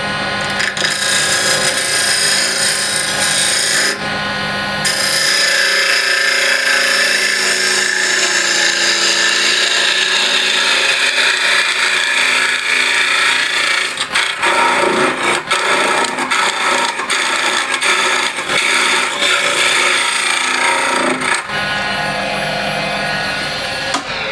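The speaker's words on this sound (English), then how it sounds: "now I'll use a square end scraper, this smaller one" Walnut burl box hollowed on a lathe with a square end scraper, loud continuous scraping and whirring with bursts of choppy catches midway, no talk.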